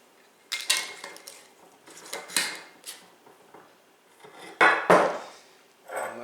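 A quart-size glass jar and its lid handled up close: a series of sharp clinks and knocks spaced irregularly, with a louder clatter near the end, no talking.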